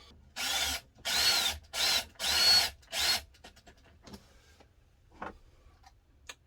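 A power drill drives wood screws into a fixture inside a Tiffin Allegro Open Road RV: five loud, close whirring bursts about a second each in quick succession, followed by quieter taps and clicks of handling.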